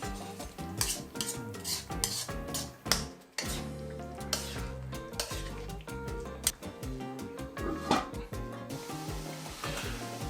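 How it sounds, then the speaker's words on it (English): Beef rendang, a spicy dry Malaysian-Indonesian curry, is stirred in a wok, with rapid, repeated metallic scrapes and clanks of the utensil over a low, continuous sizzle. "keep a check on it and keep stirring at the same time"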